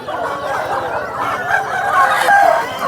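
Roosters of a prized bloodline at a rooster market crowing and clucking in an overlapping chorus, loud and near, over a busy market background.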